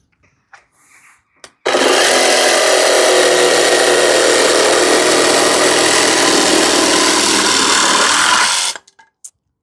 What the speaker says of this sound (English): Wow, that's cutting very proper.